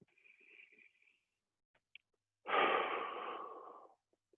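Deep belly breaths during a stretching session: a soft, airy inhale early on, then a long, full exhale rushing out for over a second, close and quiet with no talking.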